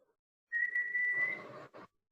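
A single sustained whistled tone holds steady for nearly a second, then breaks into a rougher, breathy burst and a short final puff, alone and fairly quiet.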